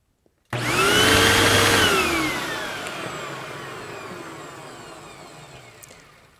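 A repaired vacuum cleaner with a new belt switches on with a sudden loud roar and a high motor whine that glides and settles, then slowly fades as the motor keeps running close by.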